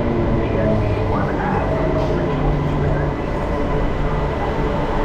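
A local train from Kolkata to Puri at Hijli station near Kharagpur, heard as a loud, continuous low rumble and rattle of the moving carriages that fills the whole stretch without a break.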